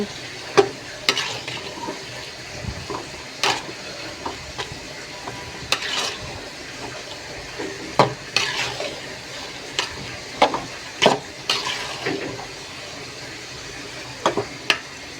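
Meat and spices for biryani stirred in a hot pan, a soft sizzle running underneath while a spoon scrapes and knocks against the metal in irregular bursts, a little over a dozen sharp clacks spread across the stretch.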